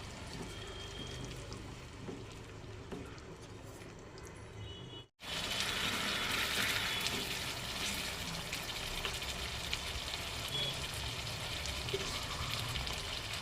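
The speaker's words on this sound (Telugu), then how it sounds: "ఇప్పుడు ఇందులోకి కొద్దిగా కరివేపాకు కూడా వేసుకొని వేయించుకోవాలి" Curry leaves frying in oil with onion masala for a Punjabi-style okra curry, a dense steady hiss of sizzling that briefly cuts out and then returns louder and brighter, with no voices.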